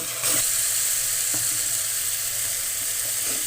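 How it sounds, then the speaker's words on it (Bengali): Spice paste with ground coriander, turmeric and salt being sautéed in a pan, giving a loud, continuous close sizzle with a few faint stirring knocks throughout and no talking. "এবার আমি ভালো করে মশলাটা কষিয়ে নেব"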